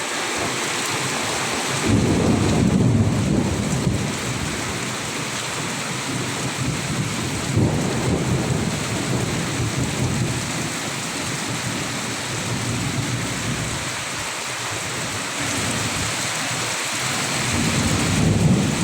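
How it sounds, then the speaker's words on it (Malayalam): Heavy rain pours steadily, a dense loud wash with deep rumbling swells rising and falling throughout. "പെട്ടെന്നായിരുന്നു ഷൂന്നൊരു മഴ പെയ്തിട്ട്."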